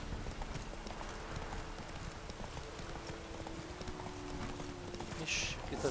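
Horse hooves clip-clopping in The Witcher 3 as the rider summons and rides the horse, a steady galloping patter under ambient game sounds with a sharper effect near the end.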